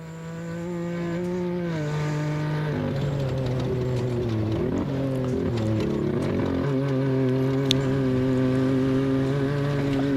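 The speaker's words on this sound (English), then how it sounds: "4th gear now downshifting a bit." A Norra 500 rally vehicle on Estero beach drones loudly in a steady engine tone, then runs through several downshifts, its pitch stepping and wavering before settling into a constant run, with faint clatter above.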